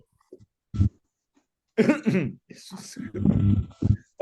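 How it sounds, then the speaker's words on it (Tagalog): A single short, sharp cough from an adult teaching a traditional Chinese medicine diagnostics review, heard close up after near silence and followed soon by ongoing speech. "Sandali, ubo muna ako."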